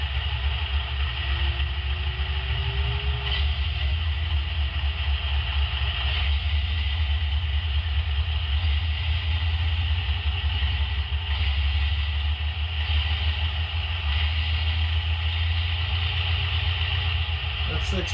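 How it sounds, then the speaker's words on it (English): A Broadway Limited RSD-15 model locomotive's Paragon3 sound system plays a diesel engine, a steady, dense rumble with a faint pitch that rises and falls early on, heard continuously at moderate level. "F5 individually ramps the diesel up and down"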